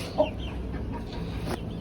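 Brahma rooster clucking close by, with a short sharp cluck near the start and softer, scattered calls after it over a low background rumble.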